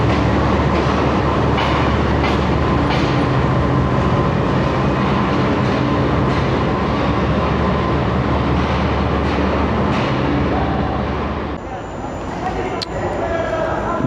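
Train GU 24556 passes through Lahore station with a loud, steady roar and rhythmic clatter of rolling wagons close by, then the noise drops off sharply near the end.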